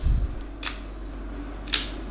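Shutter of a Nikon FM film SLR firing twice, about a second apart, crisp mechanical clicks, each alone over a quiet background.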